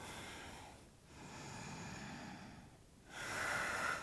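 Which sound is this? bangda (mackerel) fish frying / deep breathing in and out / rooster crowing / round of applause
deep breathing in and out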